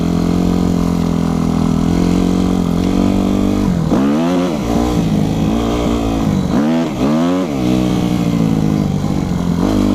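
A Yamaha YZF 250 motorcycle engine holds a loud, steady drone and then revs hard in two sharp rising surges while a rider practises wheelies, close and unbroken throughout.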